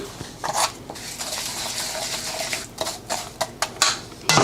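A spoon clinks and scrapes against a bowl while brown sugar, cinnamon and melted butter are stirred into a filling, giving irregular close taps and scrapes with brief pauses between them.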